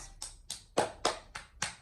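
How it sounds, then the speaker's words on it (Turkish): Seven sharp, evenly spaced hand claps ring out close and alone, like a short burst of applause. "Alkış."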